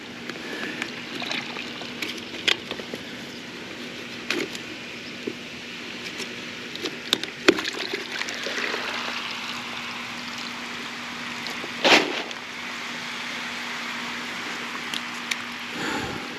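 Water flows steadily out of a sump pump drain pipe buried in a hole in a yard, a continuous trickling, splashing wash with a few sharper clicks and bumps layered over it.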